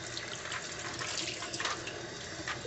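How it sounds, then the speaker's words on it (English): Tap water runs steadily into a kitchen sink while hands are washed after brushing egg wash onto an apple pie crust, a continuous close splashing hiss with no talking. "Wash my hands."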